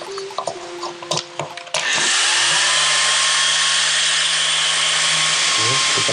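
A homemade vacuum laptop cooling pad with a high-speed fan, wired to mains power, starts up after a few handling clicks and then roars with a loud, steady, high-pitched whir that runs on without a break.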